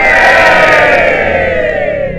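A large crowd at a Seaham event lets out a big, loud cheer, a steady wall of yelling voices that fades slightly over about two seconds.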